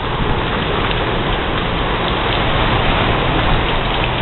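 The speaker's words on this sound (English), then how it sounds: "Lots and lots of rain." Heavy tropical-storm rain falls steadily on a deck and surroundings, a dense, continuous hiss at constant loudness throughout, close and unbroken, with no voices.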